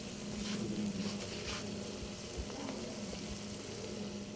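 Bopis, chopped pork lung and offal, sizzles and crackles in oil while being stirred, a close, continuous frying hiss with soft scraping under it.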